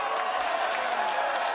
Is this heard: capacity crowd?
yes